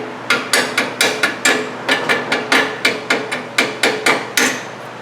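Rear brake hardware being tapped off a 2008 Mercury Grand Marquis, about fifteen sharp metallic hammer taps in an uneven but steady rhythm, close and loud, with no talking.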